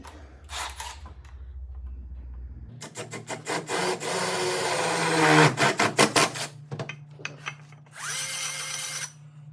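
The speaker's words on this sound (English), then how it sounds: "Love the belt sander." A belt sander whirs loudly against a workpiece, surging and rasping in a long grinding stretch with choppy stops and restarts, preceded by brief tool noises and a low motor hum.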